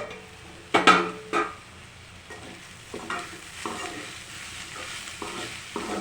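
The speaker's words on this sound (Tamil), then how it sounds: "இது கிளறி விட்டு இந்த ஆனியனு எல்லாமே நல்லா சுருண்டு நல்லா ஃப்ரை ஆகி வரணும்" Chicken and onions fry in a pan under a soft sizzle while a spoon stirs them in a few distinct scraping strokes, the loudest near the start, with no one speaking.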